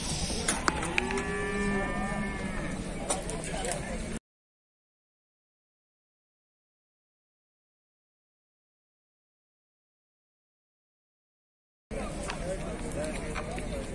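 Young calves, three to four months old, low and moo at a livestock market in Beylagan, with harmonic calls and crowd noise at the start, a long stretch of silence, then market sounds returning near the end.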